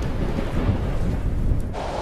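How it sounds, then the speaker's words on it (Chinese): Thunderstorm with heavy rain during a typhoon over eastern China: a steady, loud low rumble with a broad rain-like wash running continuously, shifting slightly near the end. "台风尼伯特让华东地区出现了强对流天气和暴雨。"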